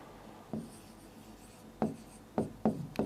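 Handwriting strokes on a classroom board as a sentence is written during an English grammar lesson: five short, distinct scratchy strokes, spaced irregularly and heard close and clear over a faint room hiss, with no talking.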